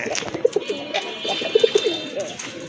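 Pigeons, including a female, coo in soft, repeated low notes, several short bursts close by, with faint chirps and a steady high hum behind them.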